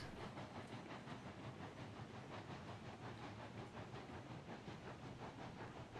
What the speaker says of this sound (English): I should be able to control both locomotives.